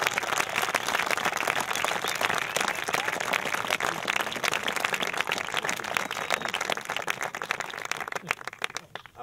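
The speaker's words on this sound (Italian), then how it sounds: "Un grande applauso ad Hamid." An audience claps and applauds at a jazz festival for drummer Hamid Drake, steady dense clapping sustained throughout without any voices on top.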